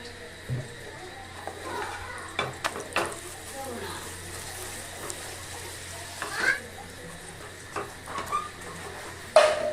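Steady oil sizzle from a stuffed vegetable paratha frying in white oil, with intermittent scraping and clinks of a spatula against the pan, close and moderately loud.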